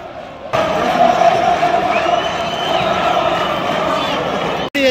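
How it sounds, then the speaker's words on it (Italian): Real Madrid fans in a stadium during a match against Manchester City, a broad sustained crowd roar with chanting, heard loudly and continuously after a sudden start. "Ora vi faccio vedere un po' la tifoseria del Real."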